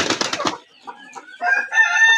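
A short-legged chicken with a peacock-like fanned tail clucks on a village farm in Delduar, Tangail: a brief throaty burst, then a few nearby rising, tonal clucks, loud and alone.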